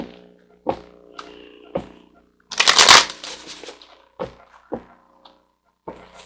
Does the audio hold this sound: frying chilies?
no